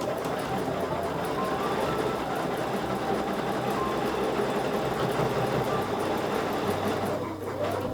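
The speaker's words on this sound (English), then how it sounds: "we're going to stitch around the square" A sewing machine stitches around a square of a quilt sandwich, running with a fast, even mechanical chatter and a brief slowdown near the end.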